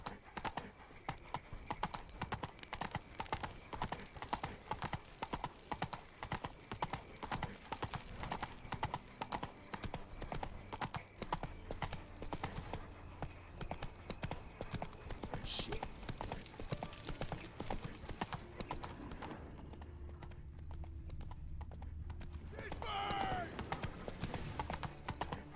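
Hooves of the horse Roach galloping in The Witcher 3 video game, a fast, continuous clip-clop rhythm that runs nearly the whole time, with a short whinny near the end and game sounds mixed in.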